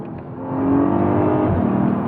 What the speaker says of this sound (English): So I'm going to go through a corner now. I'm going to accelerate out.